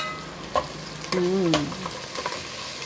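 Onion and tomato sautéing in a pan, a close sizzle with stirring scrapes and a short clatter, while a voice murmurs faintly underneath.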